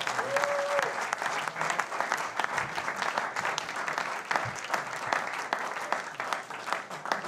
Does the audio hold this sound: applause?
yes